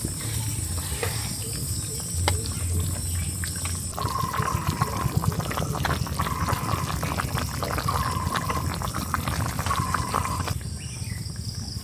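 Water is poured into a pot of fried hilsa fish for a village green-banana curry, making a continuous rushing, splashing pour that stays fairly loud throughout.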